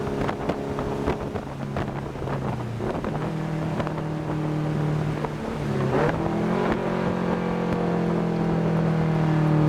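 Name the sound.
turbocharged Honda S2000 engine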